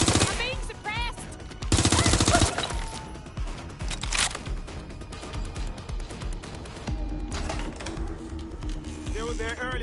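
Rapid bursts of machine-gun fire and heavy gunshots in a video game combat scene, dense and loud throughout with short pauses, under shouted voices.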